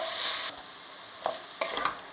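Bottle gourd curry being stirred in a frying pan, a steady close sizzle with a few brief scraping stirs of the spoon against the pan.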